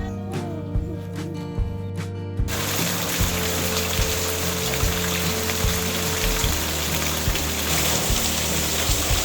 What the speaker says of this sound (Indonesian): sepertinya hari ini hujan ya